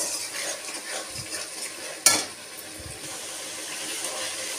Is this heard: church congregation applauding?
no